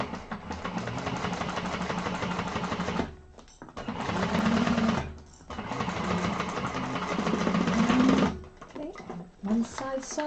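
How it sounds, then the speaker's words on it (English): A sewing machine top stitches along the side seam of a bag in three sustained whirring runs separated by short pauses, close and fairly loud, with a voice speaking briefly near the end. "Open this up so the seam is going towards the side and top stitch through the side for both sides."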